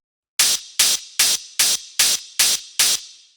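Seven evenly spaced bursts of bandpass-filtered white noise from Ableton's Operator synth, each a bright hissing hit with a sharp attack and quick fade, used as a hard industrial techno percussion layer, alone with no talk.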